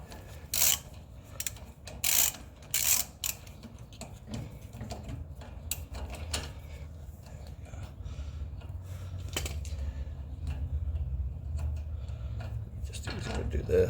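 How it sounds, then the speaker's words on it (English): A socket wrench ratchets on a bicycle crank bolt, with several loud clicking bursts at the start and fainter ratcheting and mechanical rattles after, over a low background rumble. "I'm just going to use a socket wrench that I have handy"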